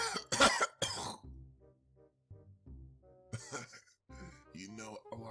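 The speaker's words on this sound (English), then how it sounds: "I did cough a little bit of blood in my mask" A few sharp coughs and throat clearing burst out near the start, loud and close, followed by quieter vocal sounds.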